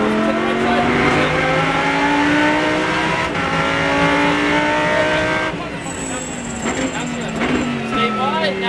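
A Lamborghini Super Trofeo race car accelerates hard around the Exotics Racing track in Las Vegas, its engine climbing steadily in pitch through the gears from inside the car, loud and continuous, with an instructor's voice speaking over it.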